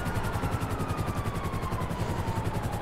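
Police helicopters hover in the game GTA Online, producing a steady rhythmic rotor chop layered with broadband engine noise and a faint falling whine, loud and continuous throughout with no speech.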